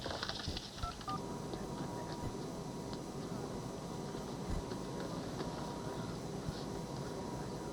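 A telephone number is dialed, a quick run of short keypad tones early on, faint against a steady low background hum.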